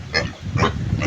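A pet pig on a farm grunts three times in quick succession, loud and close, with a low rumbling background.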